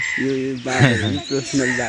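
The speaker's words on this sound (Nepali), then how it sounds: "त्यो काग पनि छ है" A crow caws close by, several harsh, hoarse calls in quick succession, loud and clear outdoors with speech around it.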